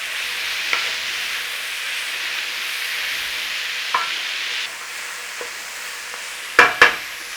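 Italian sausage and peppers fry in a pan with a continuous sizzle. A few soft stirring scrapes come through, then two sharp clacks near the end.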